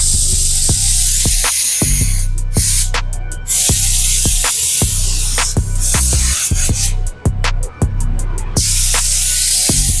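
A spray gun lays a light coat of viper green paint on a Porsche 911 RSR 3.6 restomod, a loud, close, steady hiss broken by short stop-start bursts and brief gaps as the trigger is pulled and released.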